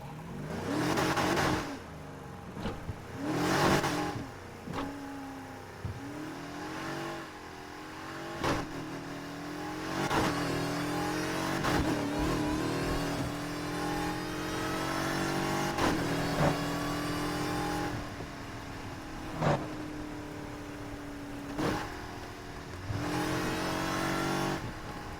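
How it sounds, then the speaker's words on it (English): A supercharged car in Need for Speed Heat revs and cruises, its engine rising and falling in repeated loud sweeps with sharp throttle blips near the start and middle, continuous and close with no talk. "Enjoy the sound of that supercharger."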